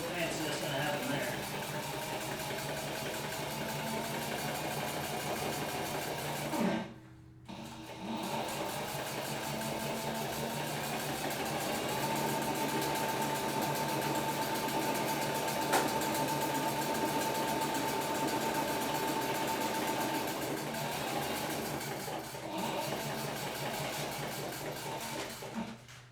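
A sewing machine stitching a children's backpack, running in a steady, even mechanical hum that stops briefly near the start and then carries on continuously.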